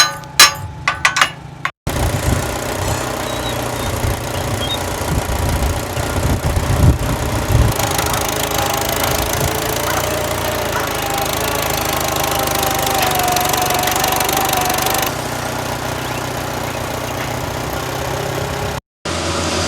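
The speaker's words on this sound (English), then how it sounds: "I'm gonna put just enough feed into here until we get to the number 1 on the grinder" A feed grinder mixer runs while loaded with feed on a farm, its engine a steady mechanical rumble with knocking and rattling, a few sharp clunks at the start, and a brief cut near the end.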